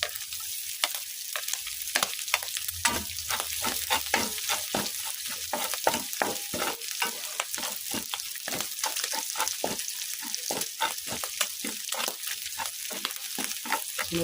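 Garlic fries in a pan for adobong sitaw with pork: a constant close sizzle broken by regular scraping stir strokes roughly every half second, with no voices.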